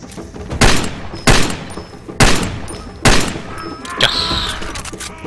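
Single gunshots from a weapon in Far Cry 2, four loud, evenly spaced cracks about a second apart with echoing tails, followed by a softer mechanical clack.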